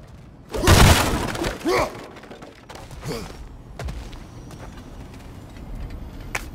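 Wooden crates and pots shattering in God of War Ragnarok, a loud crash followed by a couple of smaller breaking knocks and scattered debris, with footsteps trailing off.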